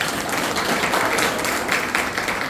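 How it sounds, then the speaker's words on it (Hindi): Loud, dense audience applause at a seminar in Chandigarh, many hands clapping together in a continuous close burst. "एक बार तालियां जोरदार।"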